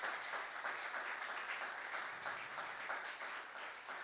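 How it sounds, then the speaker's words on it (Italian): Audience applause at a Veneto regional food-excellence event, a dense, steady wash of many hands clapping throughout, fairly distant and even in level. "Facciamo un applauso"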